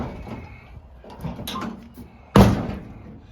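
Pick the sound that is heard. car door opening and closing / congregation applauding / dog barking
car door opening and closing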